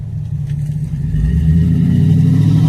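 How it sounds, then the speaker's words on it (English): A car engine with a loud, throaty exhaust rumbles and revs up steadily, close by, with no talking. "loud exhaust."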